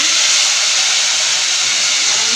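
Mutton sizzles loudly in a hot pan with onion and curry leaves, a continuous close-up hiss and crackle with no voices.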